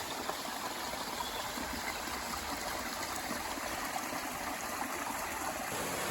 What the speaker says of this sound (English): It's a little waterfall up there.